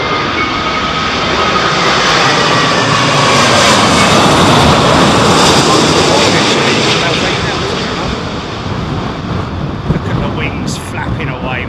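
An airliner landing at London Heathrow during Storm Isha, its engines a loud, steady roar that swells and then eases off as it passes, with gusting wind in the background and people talking over it.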